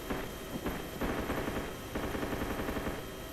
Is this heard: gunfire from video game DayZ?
yes